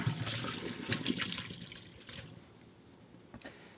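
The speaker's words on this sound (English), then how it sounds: "We're going to dump the fish chunks in our colander here." Pickled pike chunks and brine dumped into a colander, a splashing pour of liquid that runs about two seconds and then fades to a faint trickle.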